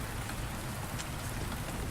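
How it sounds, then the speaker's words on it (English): Rain pours steadily in the video game Rainswept, a dense, constant hiss of falling drops with no voices over it. "I can't hear you over the rain."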